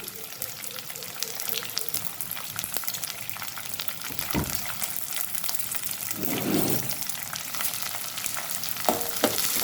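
Chopped onion and green chilli sauté in oil for vermicelli uppittu, a continuous close sizzle with scattered crackles and a couple of stirring scrapes. No one speaks.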